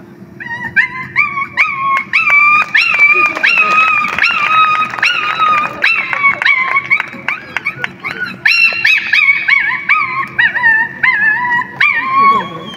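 A voice imitates a puppy whimpering, loud and close, with a string of high, wavering whines and yelps that rise and fall over about twelve seconds.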